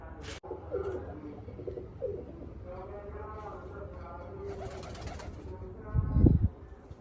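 Soft, low pigeon coos repeat under people talking nearby, with a rustling flutter of wings toward the end.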